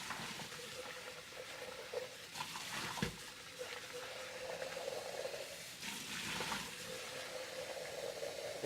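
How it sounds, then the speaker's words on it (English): Cold water running into a baking dish holding three ramekins of crème brûlée mix for a bain-marie, a steady broadband splash and trickle with a couple of brief louder surges, fairly close and alone. "And just fill up this dish until it's halfway up the ramekin."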